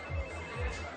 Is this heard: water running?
no